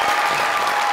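A studio audience on a Pakistani comedy show claps in a brief, dense burst, loud and continuous throughout.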